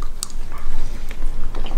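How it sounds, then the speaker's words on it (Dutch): Close-up chewing and crunching of food, with several bites and soft mouth noises in quick succession. "Ik ben lekker aan het eten."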